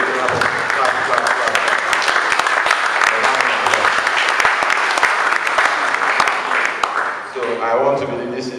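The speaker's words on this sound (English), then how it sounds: "So let's do a clap." Sustained, dense applause from a podcast audience at Osubi Airport, loud and steady for about seven seconds before briefly thinning, with voices mixed into the clapping throughout.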